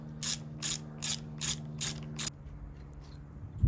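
Wrench ratcheting on a Loctite-secured bolt of a 2025 Honda NC750X motorcycle, six close rasping clicks in a steady rhythm over a low hum, then near silence with a thump at the end.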